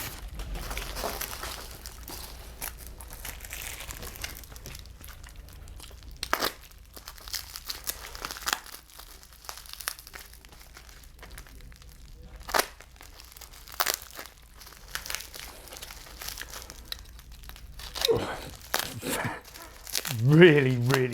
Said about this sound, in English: Again, in another nice plastic blister.